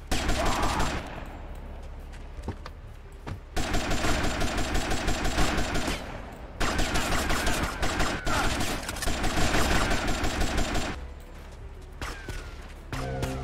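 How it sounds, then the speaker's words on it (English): Gunfire in GTA Vice City, long loud bursts of automatic fire in several stretches separated by short pauses, with an engine rumbling underneath. "I think I'm being shot at from everywhere"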